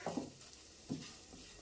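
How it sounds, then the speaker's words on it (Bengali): Mashed potato is worked together with spices in a pan, giving a few soft, close stirring scrapes with a faint frying sizzle, quiet and without talk. "আলুর সাথে মশলাগুলি খুব ভালোভাবে মিশিয়ে নেব"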